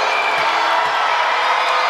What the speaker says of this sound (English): A little bit of a partisan crowd here, as you can tell, for San Miguel Alab Pilipinas.